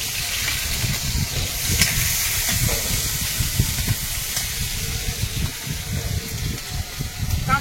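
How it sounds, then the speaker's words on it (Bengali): Chopped onion and garlic sizzle in hot oil in a wok: a loud, steady hiss and crackle of frying that continues without a break, with no talking. "এবারে তেলের মধ্যে পেঁয়াজ কুচি আর রসুন কুচিটা দেবো"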